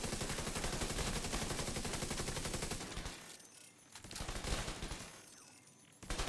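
Sustained rapid automatic gunfire in The Division 2, a dense loud burst for about three seconds, then quieter scattered shots and a final short burst.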